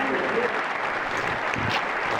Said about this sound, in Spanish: mientras que los invitados aplaudían, como si estuvieran viendo un maravilloso espectáculo